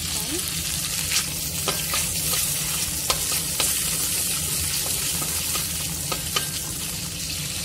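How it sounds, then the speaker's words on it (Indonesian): Butter sizzles and fries steadily in a pan while being stirred, with scattered utensil scrapes and clicks over a continuous hissing crackle, close and fairly loud. "menggunakan pan yang sama, letakkan butter sikit dulu. Lepas tu terus kacau."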